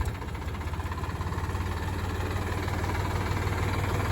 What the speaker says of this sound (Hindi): 42 हॉर्स पावर के ट्रैक्टर है